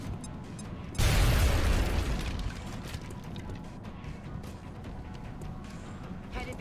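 A frag grenade explodes in the video game XCOM Long War with a sudden loud boom that decays into a rumbling tail, over background game sound.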